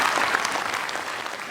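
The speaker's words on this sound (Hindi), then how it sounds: "एक बार ताली बजा दो" Audience applause at a Hindi poetry gathering (kavi sammelan) in Sanchor, Rajasthan, 2022: a dense, steady burst of many hands clapping that holds at an even level for its whole short length, with no talking.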